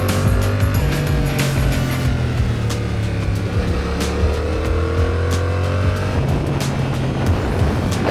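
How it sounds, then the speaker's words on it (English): A motorbike engine accelerates along a winding road on the Mae Hong Son Loop. The engine drones loudly and continuously, its pitch rising and falling through the throttle changes, with constant wind rush. "I just love twisting that throttle, feeling the torque of the engine charge you down the road"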